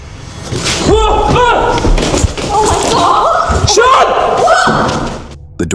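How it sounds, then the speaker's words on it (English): A single door at the end of a narrow corridor in an abandoned building swings shut, giving heavy slams and thuds amid loud rustling and footsteps as people talk and react nearby. "The door suddenly begins to swing shut behind him"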